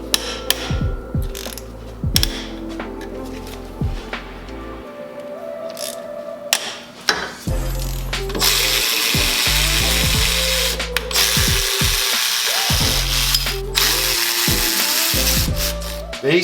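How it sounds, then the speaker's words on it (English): A ratchet loosens the 14 mm bolts on the AC compressor of a Nissan 350Z engine, giving repeated bursts of close, loud clicking pawl ratcheting with short pauses and metallic tool handling between strokes. "All you're gonna do is take out the bolts on the side of the compressor, which you guys can see right there."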